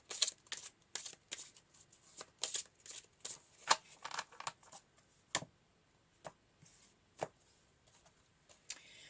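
Tarot cards being shuffled by hand, a quiet close series of crisp riffling snaps and soft slaps in irregular bursts, trailing off into a few sparse flicks.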